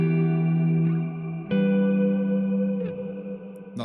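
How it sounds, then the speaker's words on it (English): An electric guitar plays sustained chords through a Strymon BigSky reverb pedal with a choral, vocal-like 'ooh' and 'ahh' layer added, giving a lush shimmering wash with a couple of fresh strums; no talk. "I also have a choral effect, like oohs and ahs kind of added to the reverb."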